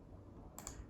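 A command tapped out on a computer keyboard, a brief faint burst of two or three key clicks over quiet room noise.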